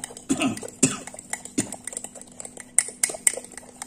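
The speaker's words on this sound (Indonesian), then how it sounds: "Ini kita aduk sampai merata ya" A fishing bait mixture being stirred in a container, with irregular clinks and scrapes, a few sharp knocks, and a cough near the start.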